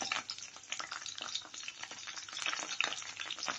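Rampe fries with chili flakes in a hot pan, giving a close, crackling sizzle that pulses as the pan is stirred, with no talking.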